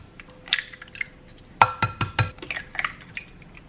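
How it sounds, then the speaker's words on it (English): Two eggs cracked against a bowl and dropped in, heard as a few sharp close knocks and clinks followed by soft wet plops, with no talking. "For the egg, I'm gonna crack 2 eggs into a bowl"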